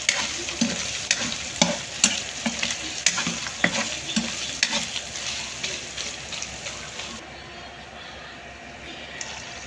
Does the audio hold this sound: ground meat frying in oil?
yes